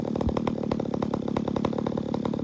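A modified lawn mower engine idles loudly and roughly nearby, its rapid uneven firing pulses chugging steadily without revving up.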